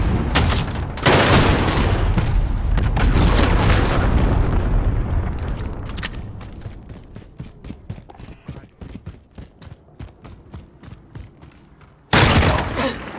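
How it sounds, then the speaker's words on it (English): A cruise missile strike in Call of Duty Modern Warfare lands as a long, roaring explosion rumble that slowly fades into rapid scattered gunfire, before another loud blast bursts in near the end. "Enemy cruise missile incoming."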